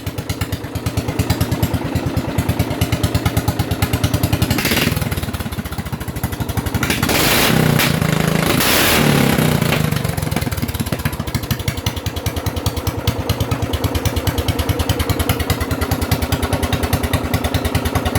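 Racing lawn mower engine running loud and close, a rapid steady putter with choppy exhaust pulses and a brief surge of revving in the middle before settling back.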